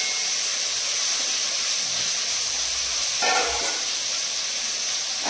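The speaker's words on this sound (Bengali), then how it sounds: "আমি এখন মাছ ভাজা বসালাম।" Five large fish frying together in a kadai, giving a steady loud hiss and sizzle of hot oil that runs unbroken and close, with a brief clatter partway through and no voices.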